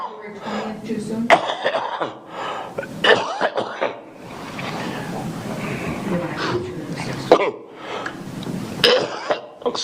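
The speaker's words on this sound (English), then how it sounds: "Excuse me, my coughing here." Several sharp, harsh coughs break out between stretches of talking in a courtroom hearing, close to the listener and fairly loud.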